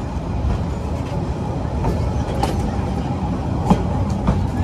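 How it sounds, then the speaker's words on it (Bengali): Saikat Express train pulling out of Dulahazara railway station on its inaugural Chattogram to Cox's Bazar run, a steady low rumble of rolling stock with faint clicks and rattles throughout. "আমরা আমাদের নির্ধারিত যাত্রা বিরতি শেষে এখন ডিপার্চার নিচ্ছি ডুলাহাজারা রেলওয়ে স্টেশন।"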